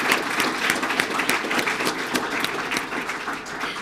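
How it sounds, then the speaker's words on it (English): An audience at a Sarasota Police Department swearing-in and promotion ceremony claps loudly and steadily, a dense, sustained round of applause from many people filling the room. "I think they deserve a round of applause"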